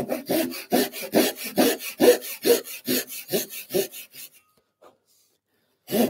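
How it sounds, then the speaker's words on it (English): A Japanese pull saw cuts into wood clamped on a bench for a halving joint, giving a steady run of about eleven rasping strokes for four seconds, then a pause and one more stroke; close and clear. "Japanese saw will cut a little bit faster"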